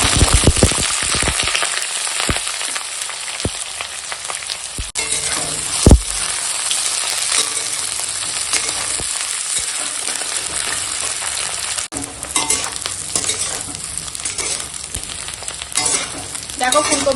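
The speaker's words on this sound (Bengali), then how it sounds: "চলো এখন ফুলকপিটা ভেজে নেবো তেল গরম হয়ে গেছে" Cauliflower pieces fry in hot oil with a constant, close, bright sizzle, and occasional clinks and stirring knocks of a utensil against the pan break through the hiss.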